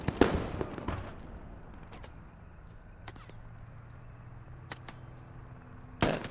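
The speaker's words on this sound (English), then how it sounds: "Where's this MG coming from?" Sharp, scattered cracks of distant machine gun fire in a military tactical shooter match, arriving as isolated snaps rather than sustained bursts, with a louder crack at the start and another near the end.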